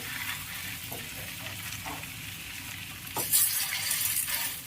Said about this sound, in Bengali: একটু মিডিয়াম আঁচে ভাজবে, তাহলে খুব সুন্দর ভাজা হবে